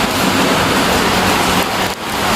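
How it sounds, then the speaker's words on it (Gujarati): Steady rain falls outside a balcony, a dense, unbroken hiss of close downpour with a slight dip near the end. "અમારો વરસાદ આવી ગયો"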